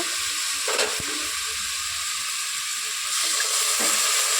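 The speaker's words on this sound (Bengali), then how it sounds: "শাকটা একটু ভাজা ভাজা হয়ে গেছে এবার জল দিয়ে দেব" Jute greens fry in a hot pan with a continuous crackling sizzle, broken by a couple of brief scraping stirs, close and fairly loud with no talk.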